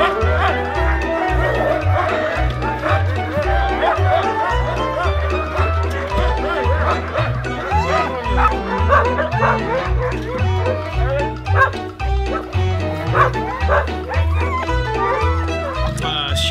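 A pack of sled dogs in snowy Åre, Sweden, bark, yip and whimper excitedly and continuously, close and loud, over a steady low rhythmic background.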